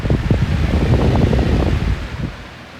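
A Lasco Pro Power electric fan running at medium speed gives a steady, close airy whoosh with soft buffeting, holding for a couple of seconds before easing off, alone without voices.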